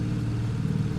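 Steady mid-pitched engine drone from vehicles in Center Station Simulator, a thin, slightly tinny hum held evenly at moderate loudness throughout, with no talk over it.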